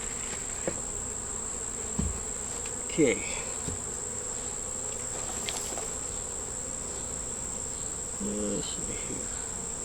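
Honey bees buzz inside an open hive feeder during beekeeping, a steady faint insect drone with a few brief knocks and rustles, and a voice speaks briefly.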